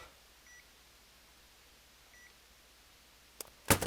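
A multimeter gives two faint, short electronic beeps as it is switched on during repair work on a Mac IIci computer. A quiet pause follows, then a louder clatter of handling at the end.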